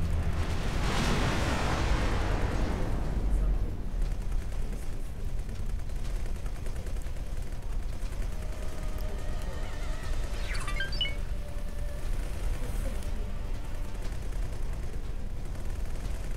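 Explosions and gunfire rumble through a space battle in the game X4 Foundations, a dense, steady roar of blasts with a brief burst of sharper crackles partway through, no voices.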